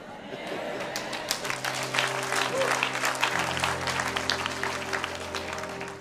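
A church congregation applauds and cheers in a large hall, a sustained wash of clapping with a steady hum underneath, gradually easing in intensity.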